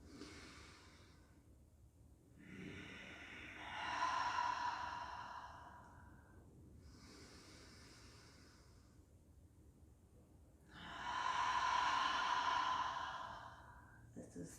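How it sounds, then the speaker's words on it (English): Slow, forceful yoga breaths, each long inhale followed by a loud, rushing exhale, with two strong breath cycles heard close and clear in a quiet room. "on the exhale, exhale it out forcefully"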